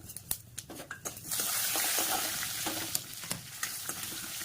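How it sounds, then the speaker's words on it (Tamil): Pepper, cumin, fenugreek and mustard seeds frying in hot oil, starting as scattered crackles and pops, then swelling into a steady loud sizzle with occasional sharp spits, close by. "இந்த எண்ணெய் காஞ்சதுக்கு அப்புறம் இதுல மிளகு, சீரகம், வெந்தயம், கடுகு இது எல்லாத்தையும் நல்லா பொரிஞ்சுக்கணும்."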